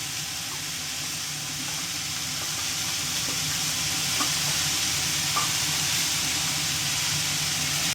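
Bottle gourd curry with chilli simmers in a pan with a continuous, even sizzle and hiss, broken by a few faint scrapes as it is stirred.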